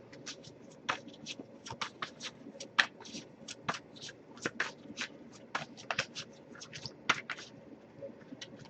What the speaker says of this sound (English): if I shuffle for a while without any cards coming up